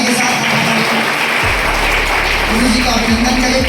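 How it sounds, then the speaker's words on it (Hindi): A crowd at a teacher's felicitation gathering claps in sustained applause, a dense steady patter throughout, with a low hum and some voices underneath. "प्लीज जोरदार ताली के साथ"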